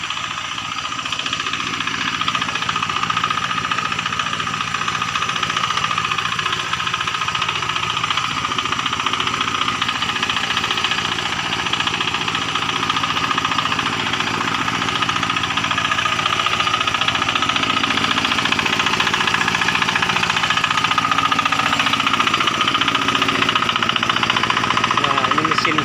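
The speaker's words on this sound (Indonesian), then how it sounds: "mereka juga sama masang mesin buat jedot air nanti buat keperluan hari-hari" Engine-driven water pump running in a tropical forest in Kalimantan, a constant chugging mechanical drone that holds steady throughout while people talk over it.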